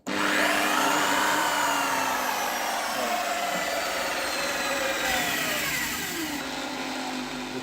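A handheld electric drill runs continuously during a sanding and decarbonizing job on a chrome exhaust pipe, giving a loud, close, steady whine whose pitch wavers slightly as the tool works.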